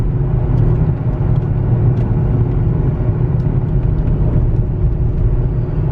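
Volkswagen Touareg TDI diesel towing 8,000 lbs up a hill in 4th gear at about 3,000 rpm, a loud, steady low engine drone and road rumble heard from inside the cab, with no talk.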